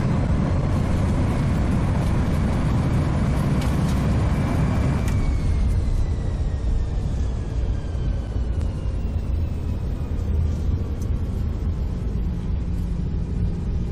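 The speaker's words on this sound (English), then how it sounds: "Reversers deployed." Airbus A320 thrust reversers roar loudly on landing in the X-Plane 11 flight simulator, a dense, steady low rumble that holds throughout with a faint whine sliding downward as the aircraft decelerates.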